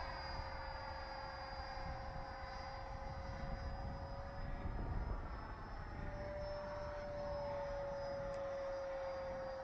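A Freewing F22 Raptor 90mm electric ducted-fan RC jet whines steadily at a distance in fog, a faint, even high-pitched drone that holds without a break.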